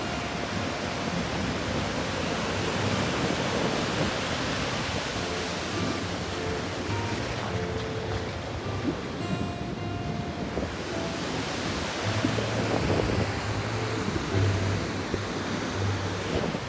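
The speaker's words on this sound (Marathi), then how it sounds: "तर मित्रांनो बघू शकता माझ्या मागे धबधबा सूर्या नदीवरील चारोटी येथे" A monsoon-flooded waterfall on the Surya river at Charoti, a continuous dense roar of rushing water close by, steady and loud throughout with some wind buffeting.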